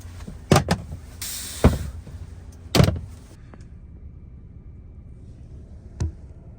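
A van door slams shut in the freezing cold, followed by a second thump and the clunk and whir of the locks engaging, then a faint click in a quiet interior.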